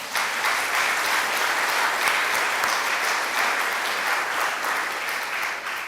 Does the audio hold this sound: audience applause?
yes